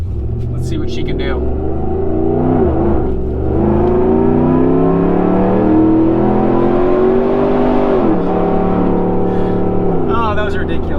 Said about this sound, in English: we couldn't end this review without an acceleration test with that exhaust note